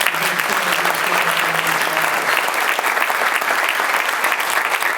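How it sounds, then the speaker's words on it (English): An audience applauds a former mayoral candidate at a Midland, Texas mayor's first speech, with sustained, loud, thick clapping from a large crowd and a few faint voices mixed in. "Would you applaud Jenny Cudd?"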